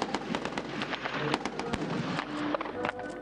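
Live rounds, missiles and bombs bursting during a full-scale Turkish military live-fire exercise at Polatlı, Ankara: a dense, continuous string of sharp cracking detonations, some close and loud, with no voices.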